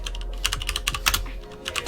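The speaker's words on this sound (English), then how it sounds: "we can type" Someone types on a computer keyboard, with quick irregular key clicks in short bursts at close range, without any talk.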